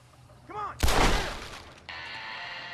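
A single loud pistol shot in the Red Dead Redemption multiplayer game, with a sharp crack and a short decaying tail, followed by a steady tonal hum.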